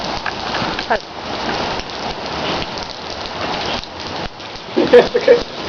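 Steady rain patters on a surface throughout, a broad even hiss with a few louder splashes near the end.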